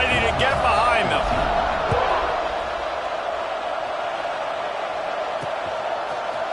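A football crowd roars steadily as the teams set up for a kickoff after an extra point, a broad, continuous stadium din with a brief burst of noise near the start and a commentator talking over it.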